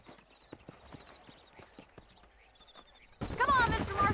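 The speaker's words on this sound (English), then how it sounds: "These are fine horses." Horse hooves clip-clop at a steady walking pace in Red Dead Redemption, a string of sharp, fairly close knocks, then a loud voice cuts in over them near the end.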